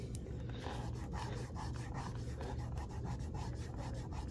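Steady close-up rubbing of an N64 game cartridge label soaked with rubbing alcohol, an even scrubbing rasp that continues without pause and with no voices.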